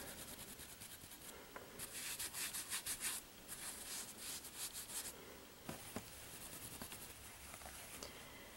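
A cloth or finger rubs color into a sculpted troll face, a quiet scratchy scrubbing in short bursts of rapid strokes with brief pauses between them.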